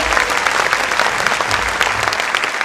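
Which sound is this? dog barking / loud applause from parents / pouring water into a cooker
loud applause from parents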